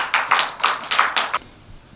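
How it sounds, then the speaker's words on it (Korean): Clapping in welcome at a church gathering comes as about six distinct, spaced claps within a second and a half, close and crisp, then fades into quiet. "우리 박수로 또 환영하는 마음으로 격려하십시다"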